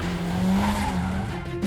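Car drifting with a sustained, loud tire squeal over a steady engine roar, close and continuous, wavering slightly in pitch as the slide goes on.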